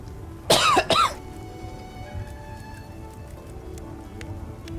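A person coughs twice in quick succession, close to the microphone, against a quiet background hiss.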